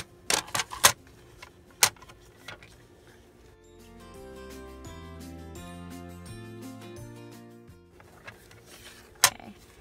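Paper strips being cut for a scrapbook page: a quick cluster of crisp snips near the start and one more near the end, with a soft sustained tone in between.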